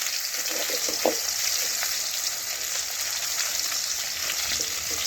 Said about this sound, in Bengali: চার পাঁচটা একদম মচমচে করে আমি ভেজে নেব এ দেখুন এগুলো ভাজা হয়ে হয়ে এসছে